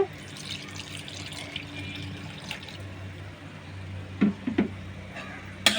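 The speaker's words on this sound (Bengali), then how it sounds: "এখন এর মধ্যে আমি অল্প পরিমাণে পানি দিয়ে দিব" A little water pours into a pot of chicken offal and split chickpea lentil curry, a soft, fairly quiet watery trickle over low kitchen background, with a few brief clinks near the end.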